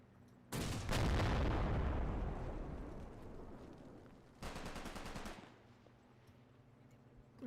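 Tank shells exploding in front of a building in the Red Thunder video game: a heavy blast with a long decaying rumble, then a second, shorter explosion a few seconds later, both loud and close.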